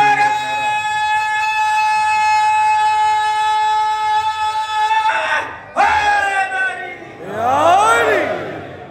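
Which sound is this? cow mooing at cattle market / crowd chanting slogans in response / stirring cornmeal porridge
crowd chanting slogans in response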